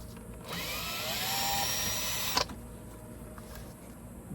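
A power tool undoes the bolts on the underbody panel of a 2018 Mustang GT in one close whirring burst of about two seconds, followed by a quiet background.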